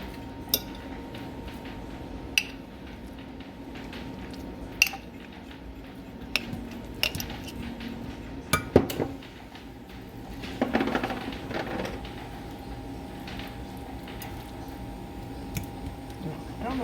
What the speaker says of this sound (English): I'm going to heat some up in a saucepan